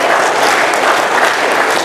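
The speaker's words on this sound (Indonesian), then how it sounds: "Sekali lagi kita berikan aplaus buat kita semua." Audience applause at a motivational talk for Jakarta health office staff, a dense, steady wash of many hands clapping together, loud and continuous throughout without any talk over it.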